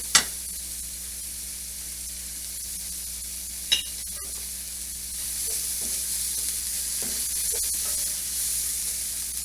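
Garlic sizzles in a pan with tomatoes, green chilies and rice: a constant frying hiss, opened by two sharp clicks, that grows slightly fuller and louder partway through.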